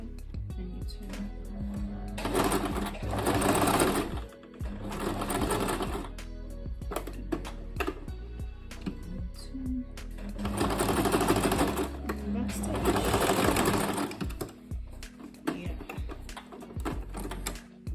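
A sewing machine runs in two long stitching bursts, its fast mechanical whir loud and close, with pauses and small clicks between runs as straight lines, curves and corners are sewn; speech is faintly present.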